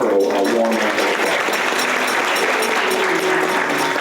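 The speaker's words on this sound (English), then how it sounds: "Would you please give her a warm round of applause." Audience applause at a university open house and ceremony, steady, dense clapping from a sizable crowd sustained evenly for the full four seconds with no voices over it.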